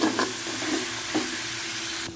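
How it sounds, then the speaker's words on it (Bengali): Telakucha leaves fry in a pan with spices as they are stirred, a steady close sizzle with a few scraping strokes of the spatula and no voices. "এবার ভালো করে এটাকে নেড়ে নেবো, দিয়ে একটুখানি ভাজা ভাজা করেই"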